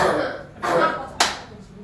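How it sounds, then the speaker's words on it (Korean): A teacher in a classroom gives a single sharp hand clap, a short loud crack after muffled talking and murmurs from the room. "쌤이 딱 박수 치고 깜짝 놀랐네, 진짜"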